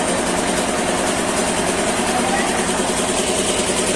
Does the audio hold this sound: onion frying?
no